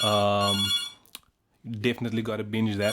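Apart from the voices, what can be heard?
phone ringing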